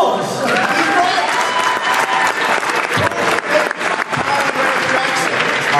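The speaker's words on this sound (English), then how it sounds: "a round of applause!" Loud audience applause fills a media festival roundtable quiz session, dense clapping sustained throughout with crowd noise and some voices mixed in.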